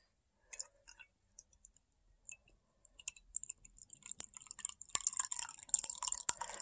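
Chicory flower tea is poured. It starts as a few scattered, quiet drips and clicks, then grows into a denser, uneven trickle of splashing liquid over the last couple of seconds, close and soft in an otherwise silent room.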